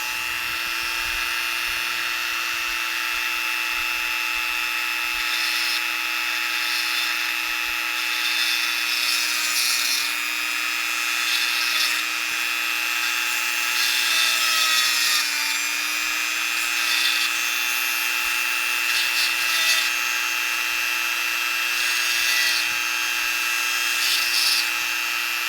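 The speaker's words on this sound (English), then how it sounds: "I'll go through and drill out the upper end of that." Power drill whining steadily as it bores through the metal casing of a Dallas DS1287 real-time clock chip, a constant high motor tone with slight pitch wobbles and scraping bursts, close and continuous.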